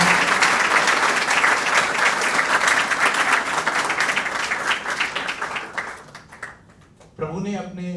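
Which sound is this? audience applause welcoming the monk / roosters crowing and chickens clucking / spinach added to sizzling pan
audience applause welcoming the monk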